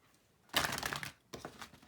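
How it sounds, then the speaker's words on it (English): An Angel Tarot card deck being shuffled, heard as two brisk bursts of riffling, papery crackle that are close and fairly loud, with a short pause between them. "You can obviously hear that I'm shuffling it pretty thoroughly."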